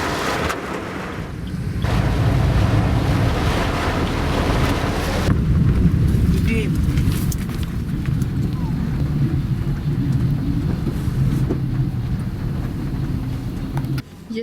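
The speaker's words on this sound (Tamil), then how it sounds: "ஓவராக மழை பெய்யுது. செம மழை." Heavy rain pours steadily in an open place, a dense, loud broadband wash that keeps up for the whole stretch, with a noisy rumbling quality throughout.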